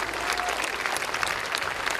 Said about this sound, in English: The faculty and staff, we got a round of applause or whatever.